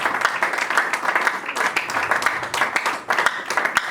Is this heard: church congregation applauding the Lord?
yes